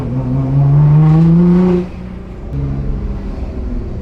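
Nissan GTR R35 widebody engine revving loudly and close, then dropping sharply in a quick downshift, settling into a lower steady drone.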